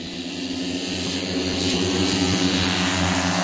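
A model B-29 bomber, foam core skinned in balsa and fiberglass, takes off on its propeller engines with a steady, loud multi-engine drone that swells slightly as it climbs.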